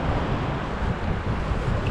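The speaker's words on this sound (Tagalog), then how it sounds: "Oh, lakas ng alon." Strong ocean waves surging and rushing in a continuous broadband roar with wind noise on the microphone, loud and close, no talking.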